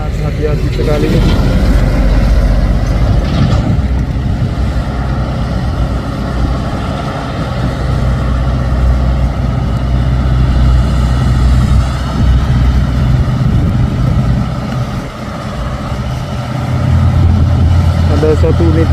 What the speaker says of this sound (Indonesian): Ada satu unit truk Hino juga termoving bersama tol diesel.